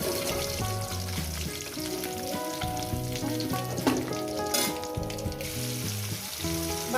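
Pieces of catla fish fry in a pan, giving a soft, steady sizzle with occasional stirring, heard fairly quietly beneath background music.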